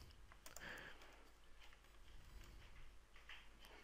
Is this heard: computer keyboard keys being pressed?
yes